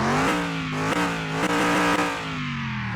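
A restored Mystery Machine van's engine revs hard, its loud, meaty grunt rising and falling through several throttle blips, close up and alone.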